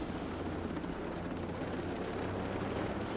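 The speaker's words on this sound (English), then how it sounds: "These helicopters are still really high up there." Helicopters high overhead in the Ghost Recon Breakpoint video game: a steady, distant rotor drone with a broad rumbling wash, unchanging and alone throughout.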